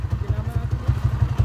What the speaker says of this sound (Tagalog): Spring kick itong motor ni boss.